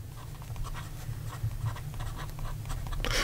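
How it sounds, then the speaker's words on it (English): A Visconti Millionaire fountain pen with a medium nib and Montblanc ink writing on paper, close and quiet, a continuous dry scratching broken into short irregular strokes, with a louder scrape at the end. "So here we go with the writing sample for the Visconti"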